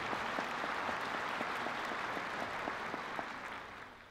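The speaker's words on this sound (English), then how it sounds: "let's give these folks a round of applause" A crowd claps steadily at a University of Arkansas commencement ceremony, a sustained round of applause heard from a distance, fading slightly toward the end.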